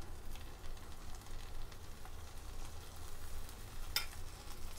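A bread omelette fries gently over a low flame in a pan on the stove, giving a soft, steady sizzle that carries through the whole stretch with one brief sharper crackle near the end.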